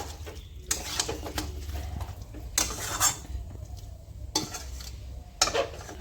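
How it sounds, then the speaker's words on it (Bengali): Chicken being stirred with spices in a kadai for a potato-and-chicken curry, with repeated scraping strokes of a spoon against the metal pan over a low, steady sizzle, close and moderately loud, with no talking. "মাংসটা একটু ভালো করে নাড়াচাড়া দিয়ে নেবো"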